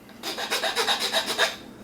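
Close, quiet rasping of a file cutting little notches against the side of a wooden hockey stick plug, about eight quick rhythmic strokes after a short silence, then trailing off.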